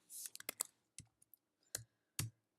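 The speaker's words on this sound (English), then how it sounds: "now I'm going to be typing in" A computer keyboard is typed on with a handful of separate, close, quiet keystrokes and clicks in an irregular rhythm, with silence between them.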